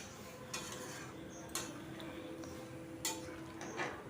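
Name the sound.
stirring potato and ridge gourd curry in a pot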